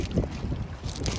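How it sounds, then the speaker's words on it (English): Gusty wind buffets a backyard garden on a stormy day, a rough, rushing roar with bursts of microphone wind noise and no voices. "It got so windy."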